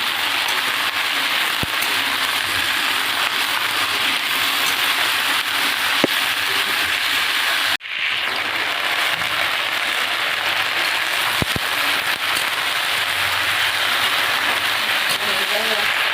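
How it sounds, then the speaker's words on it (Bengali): Eggplant, beans and mituli sizzle in hot oil in a pan, a dense steady crackle and hiss running continuously with scattered pops and one brief break in the middle. "এবার এগুলো ভেজে নেব।"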